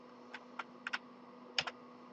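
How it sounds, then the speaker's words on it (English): Several key presses on a computer keyboard during laser-cutting design work, sharp isolated clicks in small clusters at a moderate close distance over a steady low electrical hum, with no talking. "Lock that to the center and then hit down on my keyboard."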